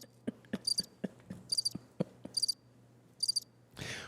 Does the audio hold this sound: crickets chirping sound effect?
yes